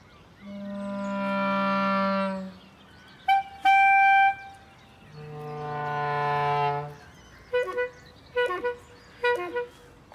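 A voice imitates rush-hour car horns, alternating long sustained honks with short tooting bursts, close and clear with pauses between them.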